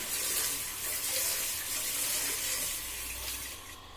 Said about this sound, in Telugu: మొత్తం 2 times వాషింగ్ చేస్తూ ఉన్నాను రైస్.